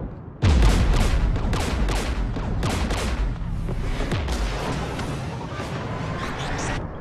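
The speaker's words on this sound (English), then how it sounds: "Taking fire." Heavy gunfire fills a Mass Effect 3 battle on Rannoch, beginning with a sudden loud blast and then continuing as a sustained fusillade of overlapping shots and booms, with no speech.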